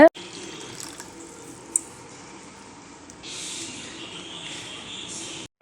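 Water pours steadily over sago pearls in a container for several seconds, growing a bit fuller and louder partway through before stopping abruptly.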